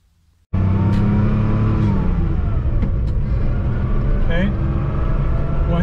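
An air-cooled Porsche 911 with a 915 gearbox starts up loudly after a brief quiet moment, then drives and accelerates with a sustained engine drone whose pitch climbs and shifts, heard close from inside the car.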